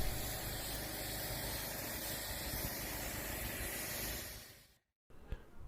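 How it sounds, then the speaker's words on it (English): A pre-wash rinse spray hitting a Volkswagen T2 camper van: a loud, close, steady hiss of water spray for about four seconds, which then fades and stops, followed by quieter background sound. "I'm starting with the first pre-wash rinse"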